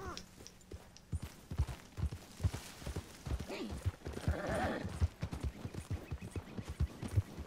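Horse hooves clip-clop steadily in Red Dead Redemption, a close rhythmic series of hollow thuds with a brief snort or whinny mixed in midway.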